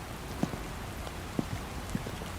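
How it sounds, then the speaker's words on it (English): Rain falls in a dense, even hiss with a few distinct drops striking a surface nearby, steady and moderately loud, outside an apartment entrance as the downpour grows heavier. "The rain is getting heavier."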